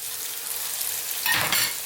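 Lamb mutton sizzling in a pan over high heat for an Indian dry masala fry, a steady close hiss that grows louder and sputters briefly near the end, with no voices over it.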